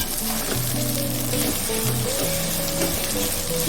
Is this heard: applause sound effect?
no